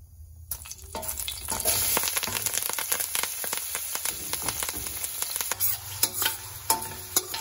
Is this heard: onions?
yes